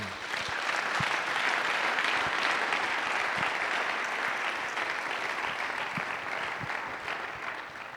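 Church congregation applauding steadily and loudly for the full stretch, a dense wash of clapping with no voices standing out.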